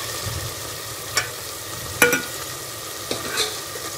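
Chong vegetable and onions frying with meat and masala in a pot make a moderate, steady sizzle, cut by a few spoon scrapes and clinks against the metal at irregular moments, with no voices.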